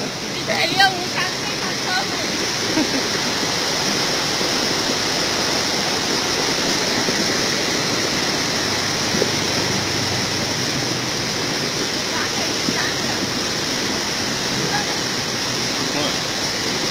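Rushing stream water from a flash flood in Mường La roars as a steady, loud, broadband wash that goes on the whole time without letting up.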